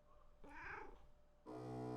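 A small cat's meow rises briefly over soft game ambience as a hellkitten transformation takes hold in the video game Moonlight Peaks, then a gentle musical chime enters.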